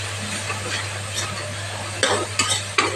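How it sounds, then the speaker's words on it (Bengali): Onion, garlic and green chili paste frying in oil, a soft steady sizzle over a low hum, then three louder stirring scrapes of a spatula in the final second, no speech. "ভালো করে মশলাটা ভেজে নেবে"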